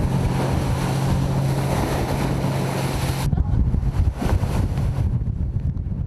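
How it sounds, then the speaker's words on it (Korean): Loud, continuous roar of rough sea and strong wind battering a fishing boat in the East China Sea, with surging wave noise throughout and buffeting gusts on the microphone. "그러나 바다는 거친 파도와 강한 바람으로 대양호를 맞이했다."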